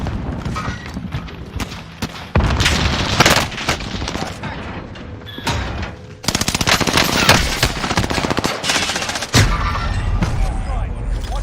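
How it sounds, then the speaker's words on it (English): Warzone match with dense bursts of automatic gunfire and booming blasts including a grenade explosion, loud and close, in repeated volleys, while a voice speaks at times. "Throwing a grenade."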